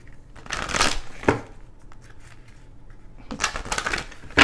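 A Moonology oracle card deck being shuffled by hand, with two bursts of crisp riffling and flapping cards separated by quieter handling, close and fairly loud.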